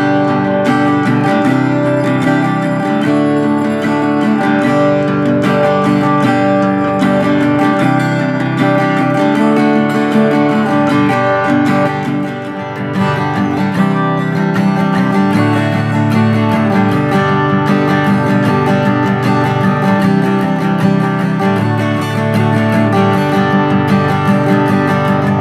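Strummed and picked Cort AF510 acoustic guitar playing steadily and fairly loud, bright ringing strings throughout with no voices.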